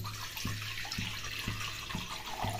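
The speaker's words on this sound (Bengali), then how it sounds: "এরপর এতে দিয়ে দিতে হবে জল।" Water streams into a kadai for cooking Maggi, a steady splashing pour heard close up with faint periodic knocks beneath.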